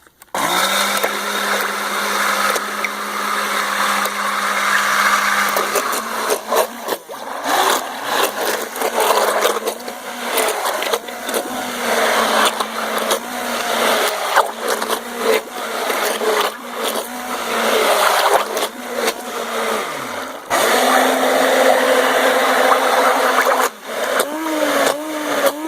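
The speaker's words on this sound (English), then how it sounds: "now I'm going to stick blend it, and you'll see what that looks like when it starts to come together" A stick blender whirs steadily through a salt bar soap mixture, a loud continuous motor drone with brief pauses and restarts as it blends, running alone without talk.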